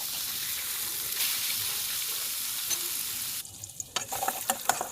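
Poa fish sizzles and crackles loudly in hot oil in a pan, a steady dense frying hiss that cuts out partway, followed by a few clattering stirs and scrapes.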